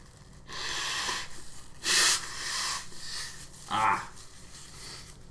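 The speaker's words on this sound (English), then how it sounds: "I need to blow my nose" Someone blows their nose in several forceful, breathy bursts and snorts at close range, with a louder blast near the middle and a wet honk shortly after, no speech.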